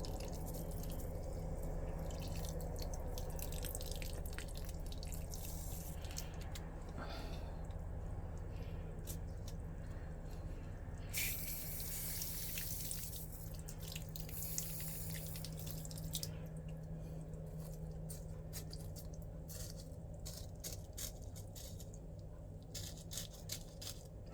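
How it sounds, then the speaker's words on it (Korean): Water is poured gently over a freshly repotted yellow-variegated iris in a pot, making soft, steady trickling and dripping as it drains through, quiet and close. "맑은 물이 나올 때까지 이렇게 주고 있어요"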